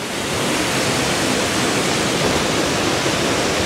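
Water from a forest waterfall rushes in a dense, steady roar at a rainy woodland campsite. It sounds close and loud, with no break and no talking.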